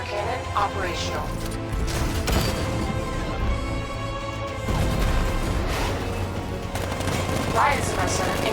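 Tank cannon fire and explosive impacts boom repeatedly in the Batman: Arkham Knight video game, loud and dense over continuous mechanical rumble, with game dialogue voices speaking over the fire.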